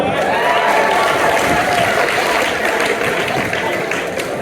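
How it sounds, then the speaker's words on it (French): An audience at a sermon gathering bursts into loud, sustained applause, a thick roar of many clapping hands with a few voices mixed in, continuing steadily before tapering slightly. "Applaudissez pour moi"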